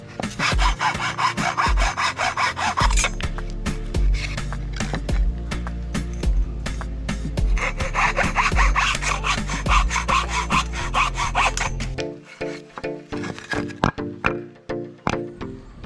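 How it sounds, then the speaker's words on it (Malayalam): A handsaw cuts crosswise through the sides of wooden plank pieces for a homemade decoration, giving steady, loud back-and-forth rasping strokes that run continuously, then shift to sparser, choppier strokes near the end. "ഇനി ഈ പീസുകളുടെ, അതായത് ഈ പലക പീസുകളുടെ 2 സൈഡിൽ നമുക്ക് ഇതേപോലെ ഒന്ന് ക്രോസ് ആയിട്ട് കട്ട് ചെയ്ത് കൊടുക്കാം"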